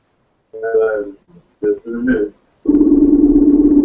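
A phone call rings out through a speakerphone with a steady pulsing ring tone at the end, after a few brief bursts of talk from the caller.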